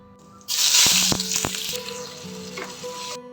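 Dried chili and cumin seeds dropped into hot white oil, a loud bright sizzle that bursts in close and then settles into a softer crackling fry with a few stirring clicks.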